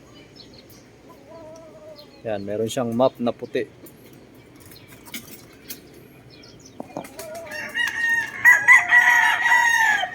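Backyard fighting roosters kept as someone's flock make a quick run of loud clucks and crows near the start, then a longer crowing call later, with someone talking over the birds throughout.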